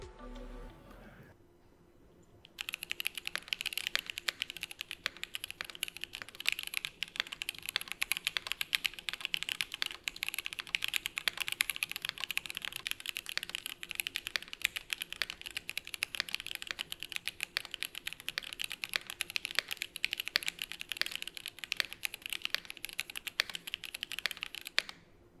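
Dense, steady mechanical keyboard typing on a Brutal 60 board with a layer and a half of foam added under the case, continuous close keystrokes with sharp clacks running for over twenty seconds after a brief quiet start.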